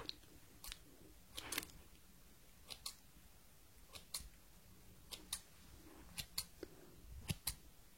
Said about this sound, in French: Donc je coupe bien ce qu'il y a sur le côté.